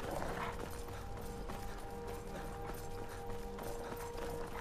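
Horse hooves clip-clopping in Skyrim, a faint steady rhythmic patter under a constant background hum, with no talking.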